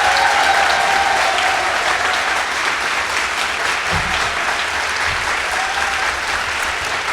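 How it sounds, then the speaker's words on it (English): A convocation audience applauds library faculty and staff. The clapping is full and steady from a large crowd, holding at an even level throughout, with faint voices underneath. "Let's give them a real round of applause for all of their work."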